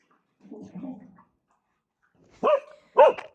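A stray dog barks twice in quick succession, loud and close, after a brief low murmur or whine.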